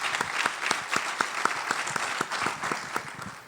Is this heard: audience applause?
yes